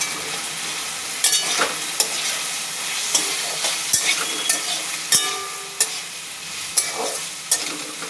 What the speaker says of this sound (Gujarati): હળદર નાખી ફેરવી નાખવાનું